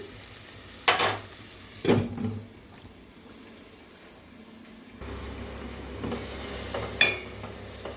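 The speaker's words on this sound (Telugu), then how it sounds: "ఇది చక్కగా గోల్డెన్ కలర్ వచ్చే వరకు మనం ఫ్రై చేసుకుందాము." Onions and green chillies frying in a pan for an egg and drumstick curry, with a soft steady sizzle broken by a few louder stirring scrapes and clatters near the start and end.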